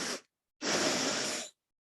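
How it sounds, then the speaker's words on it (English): Two inhalations drawn through the nose during a breathwork exercise, filling the belly and then the chest: a short sniff, a brief pause, then a longer, steady airy breath, close and quiet with no talk. "you're going to pulse and bring in 2 inhalations"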